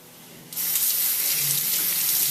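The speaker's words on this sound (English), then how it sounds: "run them under a little water here" Tap water gushes from a kitchen faucet into the sink as meat is rinsed under it, starting abruptly after a quiet moment and then pouring steadily and loudly without a break.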